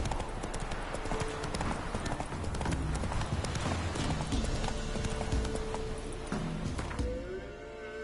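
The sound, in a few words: horse Roach galloping in The Witcher video game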